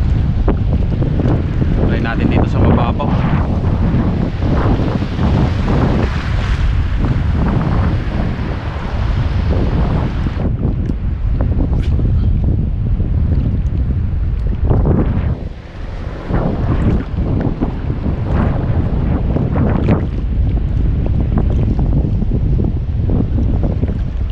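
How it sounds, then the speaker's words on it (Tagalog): Strong wind buffeting the microphone on a shoreline during shore casting, with surf and waves behind it; loud, continuous gusting roar throughout, with someone briefly speaking over it. "Hangin mga master."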